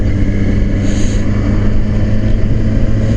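Yamaha FZ6R motorcycle on the move, heard as a loud, steady engine drone with heavy low rumble and wind noise throughout, no voices.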